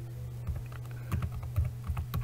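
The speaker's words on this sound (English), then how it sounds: "you can just come here and type what you want to describe yourself" Computer keyboard typing in close, irregular bursts of clicky keystrokes over a steady low electrical hum.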